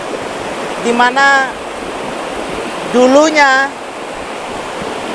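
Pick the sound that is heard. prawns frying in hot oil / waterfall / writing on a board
waterfall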